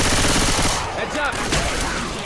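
Rapid, loud gunfire from the zombie shooter Left 4 Dead 2, a dense burst of automatic shots close up that gradually thins out over a couple of seconds.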